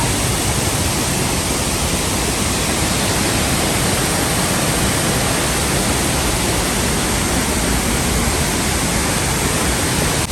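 The Saut du Loup waterfall in Gourdon, France pours with a loud, constant, dense roar that fills the scene without a break.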